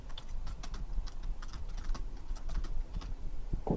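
Steady clicking of a computer keyboard as C++ code is typed, a fast irregular run of close, light keystrokes with no talking.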